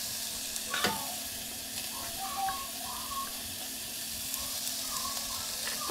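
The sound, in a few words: garlic and ginger sizzling in a frying pan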